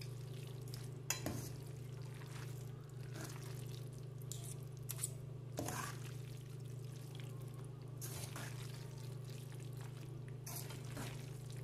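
Pasta and bacon are stirred in a frying pan, giving a soft, steady sizzle and scraping with a few louder scrapes, over a constant low hum, with no talking.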